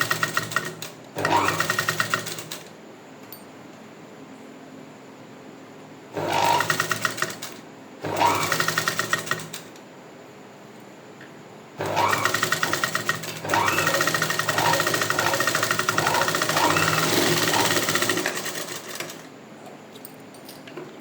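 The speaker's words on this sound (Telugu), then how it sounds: "ఇలా పట్టుకుంటూ నీట్గా స్టిచ్ చేసుకోవాలి" A sewing machine stitches piping neatly, running in four bursts: three short ones followed by a long, steady run of close, loud whirring.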